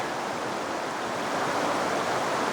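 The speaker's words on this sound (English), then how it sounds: "We got a waterfall coming up there, coming down." A waterfall pours down into a stream at Ricketts Glen State Park, making a steady, broadband rushing wash of water that holds even and unbroken throughout, with no voices over it.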